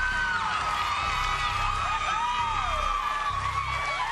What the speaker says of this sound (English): A lot of screaming ladies last night and tonight.